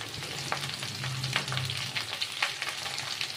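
Okra pieces fry in hot oil with a steady crackling sizzle, punctuated by a few sharper pops and soft stirring scrapes, moderately quiet and close with no talking.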